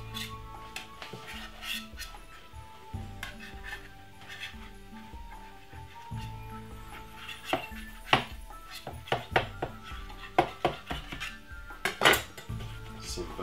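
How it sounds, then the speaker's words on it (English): Knife trimming the pastry edges along the rim of a quiche pan, a run of light metallic clicks and scrapes against the metal that grow sharper and more frequent toward the end, near and fairly quiet. "Use a knife and simple cut off the edges."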